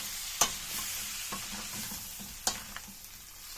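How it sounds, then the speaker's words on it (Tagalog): Pork pata and kare-kare ingredients stirred in a pot, a steady soft sizzle and scrape with a couple of sharp utensil knocks against the pot, close and alone with no talking. "At hahaluin na po natin hanggang sa mag-combine na po yung lahat na sangkap na linagay po natin dito."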